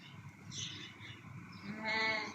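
A purebred sheep bleats with a wavering, nasal cry toward the end, over a low rumble of background noise.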